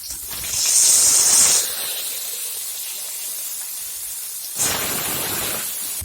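Fish pieces frying in a pan give a steady hissing sizzle, with louder bursts as pieces go in or are flipped.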